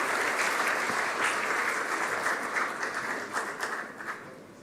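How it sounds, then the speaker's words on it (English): Warm audience applause at a CII annual business summit welcoming the chief minister, dense and loud from the start, gradually thinning and tapering off toward the end. "please welcome Fadnavis ji with a warm round of applause"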